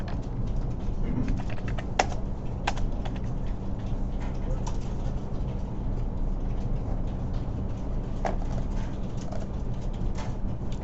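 Computer keyboard typing during a coding session, light clicks scattered over a steady low background hum, with cooing pigeons or doves faintly audible in the background.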